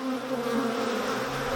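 Honeybees and drones swarm in an opened beehive, a steady close buzzing drone that holds unbroken throughout with no talk.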